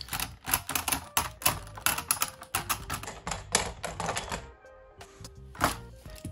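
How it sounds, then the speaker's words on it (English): Rubber blades on a Beyblade Burst Surge top are struck repeatedly with quick light flicking clicks in a rapid irregular rattle, close and fairly quiet. "like the little flicking noises. That's the rubber blades being hit."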